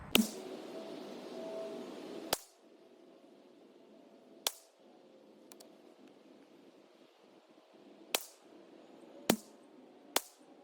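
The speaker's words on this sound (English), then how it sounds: "stand by, I'm gonna fire off these 5, and then the next 5" A Ruger 10/22 rifle firing CCI standard ammunition, five sharp, loud reports spaced a second or two apart with quiet gaps between them, the opening crack set over a brief burst of broadband noise.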